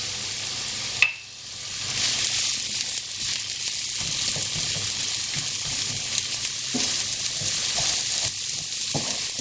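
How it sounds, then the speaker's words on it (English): Chopped onions with salt sauté in hot oil for Bangladeshi tinned sardine bhorta. After a sharp start, a steady, fairly loud sizzle runs throughout with faint stirring sounds and no talk. "saute this for a couple of minutes until the onions are soft and translucent"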